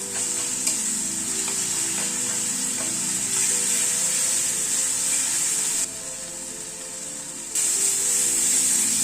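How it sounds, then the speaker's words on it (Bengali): Chopped coriander leaves sauté with spices in a pan on a gas flame set low to medium, giving a steady, close sizzle and frying hiss with soft stirring scrapes, alone and without talk. "অল্প একটু ধনেপাতা কুচি মশলার সাথে কষিয়ে নিচ্ছি"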